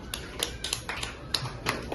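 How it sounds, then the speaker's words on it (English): Scattered hand claps in a classroom, a class applauding a pupil with irregular, light claps, some sharp and close, over a brief stretch with faint background voices. "Give her a clap."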